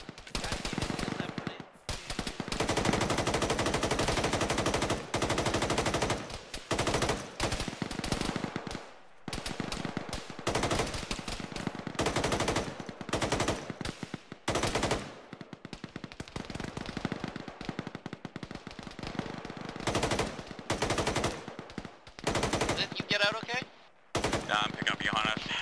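In a wooded area of an ArmA military game, machine gun fire erupts in repeated sharp bursts separated by brief silences, loud and close, with occasional voices between volleys.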